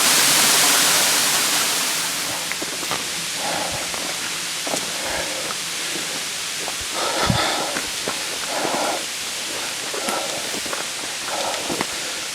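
Steady rushing water of ButterMilk Falls fills the air at moderate distance, a constant hiss with occasional nearby footsteps or knocks over it.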